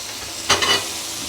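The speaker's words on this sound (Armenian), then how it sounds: "Ես փորձեմ գիլասը տապակել" Cherries fry in a hot pan in a home kitchen. A brief, bright sizzle swells with a stirring scrape, then settles back into a faint steady hiss.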